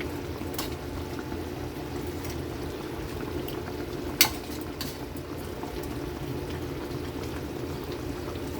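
Coconut milk bubbles at a steady, gentle boil in a pot for ginataang bangus, close and continuous, with one sharp clink partway through.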